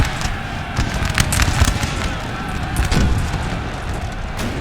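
Artillery and gunfire on a Napoleonic battlefield at Borodino 1812 in the video game Napoleon: Total War, a dense wash of booms, pops and crackling musketry, loud and continuous with no clear single blast.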